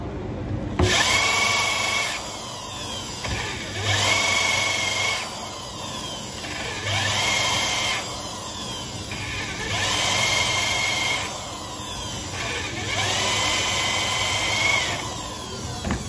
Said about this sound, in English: carbide, tungsten carbide, yeah, cross cut bit for initial drilling, which we sometimes used